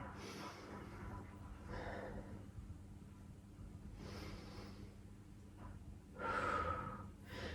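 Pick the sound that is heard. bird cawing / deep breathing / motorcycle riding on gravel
deep breathing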